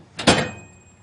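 A door is pulled shut with a sharp double impact, a short scrape then a louder bang, followed by a fading metallic ring in a quiet space.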